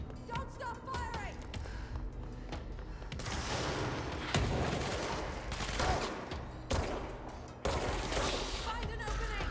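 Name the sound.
gunfire in the video game Control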